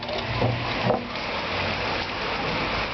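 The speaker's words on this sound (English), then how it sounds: "Here we got some hail and all that" Hail falling during a storm in Huancayo, Peru, a steady dense patter of ice striking surfaces nearby, continuous and fairly loud throughout with a few sharper knocks early on.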